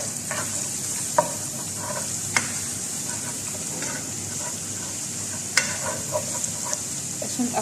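Finely chopped onion and garlic frying in a pan, making a continuous close sizzle with sharp clicks of a utensil scraping and stirring at irregular intervals.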